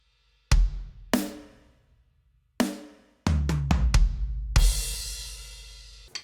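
Drum kit playing one measure from a song very slowly, with separate spaced kick, tom and snare hits ringing out, then a quicker cluster of tom strokes ending in a long, loud crash cymbal wash, played alone.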